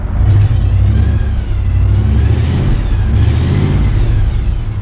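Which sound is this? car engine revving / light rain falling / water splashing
car engine revving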